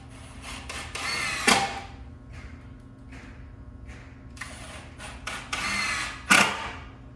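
Screws are driven into cedar picnic table boards and 2x4s in short, separate bursts of a whirring driver, several bursts with quiet gaps between them and two sharper, louder peaks near the middle and end.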